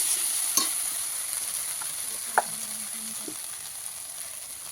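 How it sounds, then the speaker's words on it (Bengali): Spices frying in a pan over a wood fire for a cauliflower curry, stirred with a few scrapes and clinks over a soft steady sizzle, close and moderately quiet, with no talking. "নাড়াচাড়া করে নিস মশলাটা"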